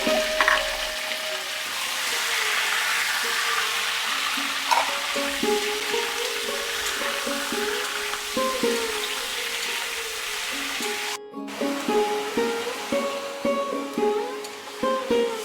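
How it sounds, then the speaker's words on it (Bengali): Chicken pieces hit hot oil in a pan and fry with a loud, continuous sizzle, joined by scattered clinks and scrapes of stirring throughout, with one brief dropout near the end. "এবার আমরা মাংসগুলোকে ছেড়ে দিচ্ছি।"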